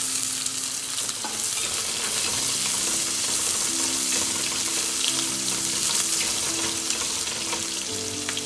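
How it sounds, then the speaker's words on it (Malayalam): Green chillies sizzle steadily in a hot pan of oil while crab roast is cooked, a dense, continuous frying hiss with occasional stirring clatter. "കളർ മാറി വരുമ്പോൾ അതിലോട്ട് നമുക്ക് നമ്മൾ പച്ചമുളക് ഇട്ട് കൊടുക്കാം"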